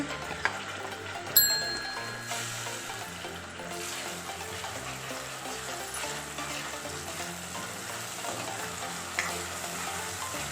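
Ground masala paste goes into browned onions for a spicy crab curry, giving a steady loud sizzle and frying hiss with stirring scrapes throughout and a couple of brief clinks early on.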